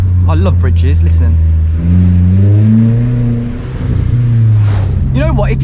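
A Vauxhall Corsa driving over a bridge, its engine humming steadily and shifting in pitch over a low road rumble, heard from inside the cabin while someone talks.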